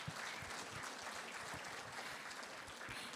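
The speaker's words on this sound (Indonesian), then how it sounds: "Ya silakan tepuk tangan" Faint applause from an audience at a nutrition talk, with scattered hand claps in a soft, steady wash lasting a few seconds.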